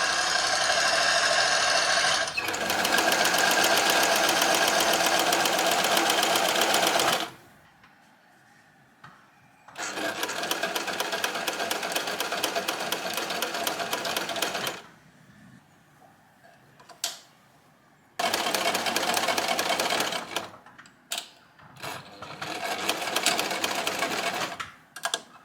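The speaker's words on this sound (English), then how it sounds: "I basted the seams before I machined them" Sewing machine stitching the seams of a caftan in several long runs of fast, even mechanical whirring and ticking, split by quiet pauses and short stop-start bursts toward the end, close and clear without speech.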